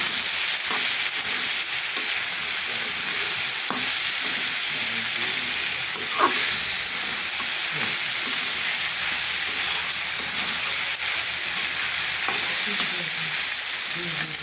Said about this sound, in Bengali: মশলার সাথে নুডলসটা মিশিয়ে নেব